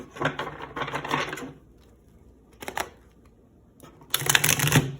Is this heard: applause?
no